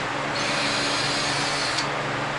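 Power-tool whir from removing exhaust flapper bolts on an Indmar Monsoon 350 small-block engine in a 2002 Malibu VLX boat: a steady, close, loud buzzing drone with a brief higher whine near the end.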